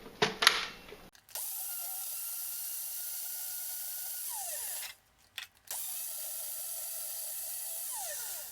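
A Ninja blender fitted with a 3.5-inch six-fin blade and an aftermarket blending cup blends a smoothie, whirring loudly and steadily after a short rattle. It stops briefly before resuming, with no talk over it.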